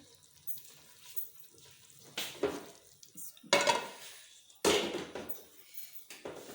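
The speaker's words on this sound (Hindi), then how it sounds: "तो अब मैं इसे चेंज करूँगी दूसरे बर्तन में।" Cooked keema is moved from a pressure cooker into another pot in a home kitchen, with several loud metallic scrapes and clanks of a spoon against the pots, spaced out between quieter handling sounds.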